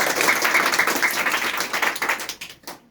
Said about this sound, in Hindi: तो अपने लिए आप ताली बजाइए